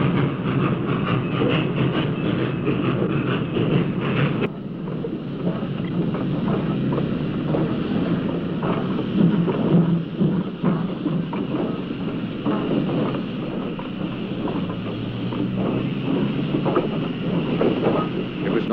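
A C&O 2-6-6-2 articulated steam locomotive runs in Appalachia, giving a loud, steady, dense rumble and roar with churning mechanical texture and some wind buffeting the microphone, sustained throughout.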